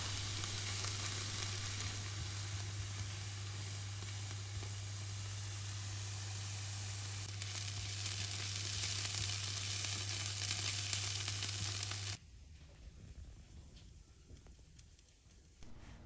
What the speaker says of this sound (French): Puis faire dorer à la poêle pendant quelques minutes et à feu doux.